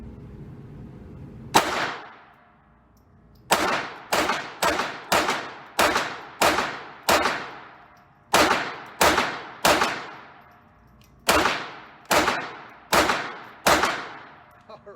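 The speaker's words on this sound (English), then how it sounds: "Get a good grip, take aim, and just slow fire and have fun" Fourteen loud, sharp pistol shots fired slowly at a shooting range, spaced roughly half a second to a second apart in short runs with pauses between, each with a quick decaying echo.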